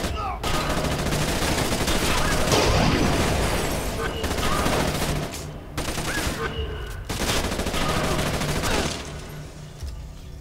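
Rapid gunfire bursts and automatic fusillades ring out in the video game Splinter Cell Conviction, loud and close, arriving in several clusters separated by short pauses.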